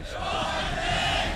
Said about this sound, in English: And Ever actually gets a decent cheer as well, too.